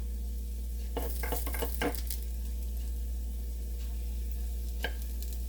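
Oil sizzling on cabbage uppam in a pan, a constant low hiss over a steady hum, broken by a quick cluster of utensil clicks and scrapes early on and one more later.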